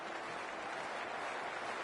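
Crowd at a West Indies versus England T20 cricket match, a faint, distant, continuous wash of cheering and clapping with no distinct voices.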